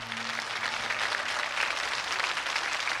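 Studio audience applauding at the close of a televised game show countdown, steady dense clapping filling the whole stretch at even loudness, with a faint low hum underneath and no voices.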